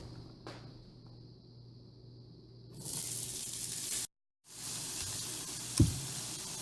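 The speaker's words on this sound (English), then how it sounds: "Now we're going to throw the onions in the pan." Onions hit a hot pan greased with avocado oil, a bright steady sizzle rising after a quiet start, cut by a brief gap, then resuming with a small knock.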